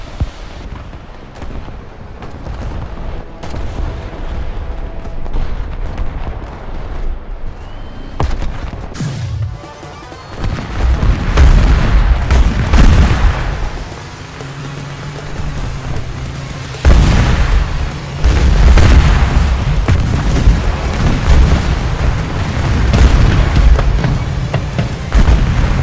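Tanks firing missiles with explosions in War Thunder's futuristic April Fools mode, loud booming blasts and rumbling detonations that come in heavy bursts over a continuous dense roar of battle.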